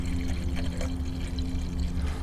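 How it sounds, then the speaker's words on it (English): Distilled water poured in a short steady stream into the coolant reservoir of a 2020 Jeep Gladiator 3.6, a close, continuous trickle with no pauses. "Gonna give her a little shot of distilled water"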